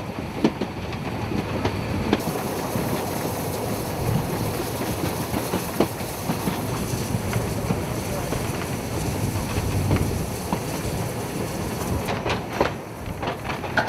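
Narrow-gauge train passing the Silberhütte stop on a trip toward Quedlinburg, a steady rolling rumble with rhythmic rail clicks and some wind buffeting, continuous and moderately loud throughout.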